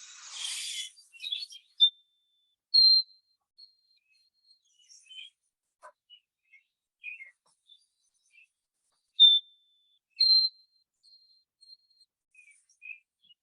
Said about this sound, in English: they have a lovely song. White-throated sparrow breeds up north like Canada.